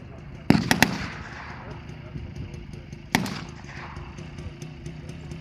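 Sharp gunshots at a WW2 battle re-enactment: a tight burst of several blank rounds, then a single louder crack a few seconds later, ringing over a steady outdoor rumble with voices faintly in the background.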